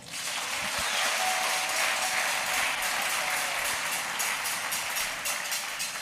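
A church congregation applauds with dense, sustained clapping that fills the space evenly at a moderate level throughout.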